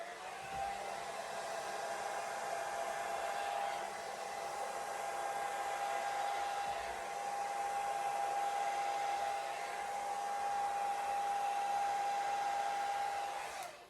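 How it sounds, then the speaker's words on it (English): A hairdryer on a cool setting blows steadily and close by over fluid art paint, a constant airy whoosh with a thin whine running through it, with no one speaking. "hairdryer, it's on a cool setting."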